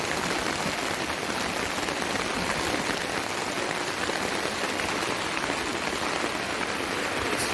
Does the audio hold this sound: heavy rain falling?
yes